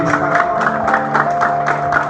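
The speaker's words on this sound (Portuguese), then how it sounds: "Aplauda o Senhor Jesus" A congregation claps for the Lord at an evangelistic service held at a Ceasa market, steady and close, with a sustained instrumental tone ringing underneath.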